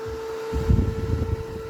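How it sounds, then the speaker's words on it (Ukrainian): A homemade pinwheel-style electric fan starts up and blows hard, a fairly loud steady motor hum with a whooshing rush of air that swells as it spins up. "я під'єдную і вентилятор запускається"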